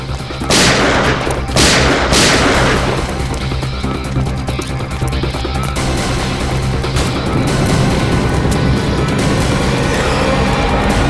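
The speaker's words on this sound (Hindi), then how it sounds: "ऊपर से सीआईडी के ऊपर फायरिंग।" Gunfire in a crime drama as armed men shoot at CID police officers: two sharp, loud shots open the scene, followed by continuing booming blasts and rumbling action noise, with no talk.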